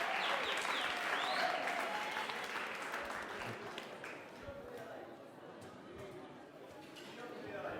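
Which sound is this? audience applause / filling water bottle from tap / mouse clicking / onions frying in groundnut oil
audience applause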